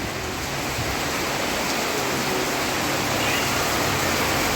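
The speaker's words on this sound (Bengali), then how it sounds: "তুমুল বৃষ্টির স্পিড কি" Heavy downpour of rain pounding steadily on a street, a dense, continuous roar that stays loud and even throughout, with no breaks.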